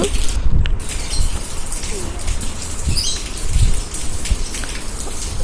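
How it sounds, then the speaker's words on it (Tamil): Heavy rain falls steadily without a break, a dense close patter and splashing with occasional louder drips and knocks. "நல்லா விடாமல் பெஞ்சிக்கிட்டே இருக்குது மழை"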